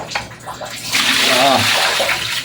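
Dirty water drained from an air conditioner cleaning is poured out in a steady, loud splashing stream that swells and continues for a couple of seconds.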